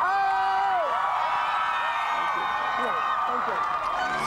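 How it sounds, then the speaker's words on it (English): A dense, loud crowd screams and cheers without a break as Bono and Oprah arrive at the Gap store on Chicago's Magnificent Mile, with high shrieks rising over the steady roar. "Screaming crowd greeting Bono and Oprah at the Gap on the Mag Mile."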